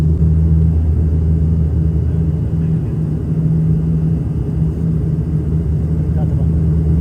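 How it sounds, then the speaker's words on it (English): Steady, loud droning cabin noise inside an ATR 42-320 turboprop airliner on final approach into Kathmandu, with a constant low engine hum and propeller tones and no clear breaks. "Now the plane is at final approach for landing."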